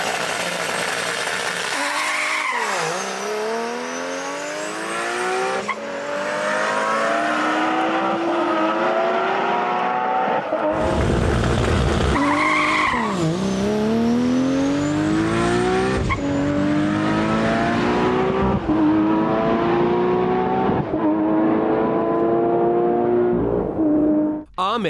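Manual Nissan GT-R race car accelerating hard at Cootamundra Airport during the 2022 GT-R Challenge, with a loud engine note climbing through repeated gear changes, each shift dropping the pitch before it rises again.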